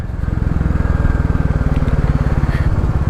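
A 2022 Royal Enfield 350 Classic motorcycle ridden slowly through town, its single-cylinder engine thumping in a steady, close, loud pulsing rhythm throughout with no talk over it.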